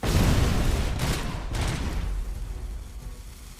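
Gunfire and blasts from grenade explosions in the RoboCop: Rogue City video game, a loud dense burst of shots and booms at the start that thins out into a fading rumble.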